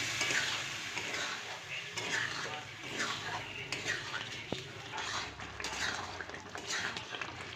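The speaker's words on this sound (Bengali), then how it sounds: "এবার মাংসের সমেত এই ডালটা খুব ভালো করে কষিয়ে নেব।" Boiled mung dal cooking down with pieces of meat in a pan, a steady soft sizzle under repeated scraping and clinking of a spoon against the pot, with one sharp metallic tap midway.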